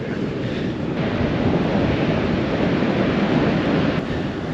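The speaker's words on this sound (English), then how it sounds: "It's windy today." Strong gusting wind buffets the microphone at a beach on the coast at Nettuno near Rome, forming a steady loud roar with a low rumble. Surf may be mixed into the sound, and nobody speaks.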